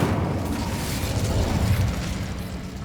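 Incendio fire spell cast in the Hogwarts Legacy video game, a rumbling, booming burst of flame that rolls continuously at moderate level with low-end weight and no voices.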